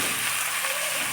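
Potatoes and mixed vegetables frying in a pan with salt added, giving a continuous close, even crackling sizzle with no speech over it.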